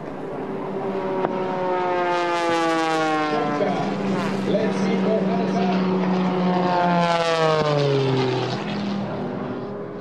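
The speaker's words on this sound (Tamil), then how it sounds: "மிகவும் அபாயகரமான இந்த போட்டியில் மணிக்கு 370 கிலோமீட்டர் வேகத்தில் விமானத்தை வீரர்கள் இயக்கினர்." Race airplanes roar past at an air race championship in Rovinj, Croatia, flying at up to 370 km/h. A loud propeller engine drone rises and falls in pitch as the planes sweep by, with two clear passes.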